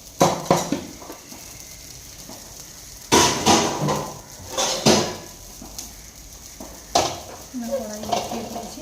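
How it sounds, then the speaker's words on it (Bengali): A wok (kadai) set down on a kitchen stove, sharp metallic clanks and knocks against the burner in several bursts over low background noise. "কড়াই বসিয়ে দিয়েছি"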